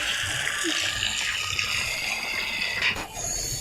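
In the horror game Baby in Yellow, water pours steadily in a continuous hissing stream, moderately loud and close, with a brief splashy surge near the end before it settles.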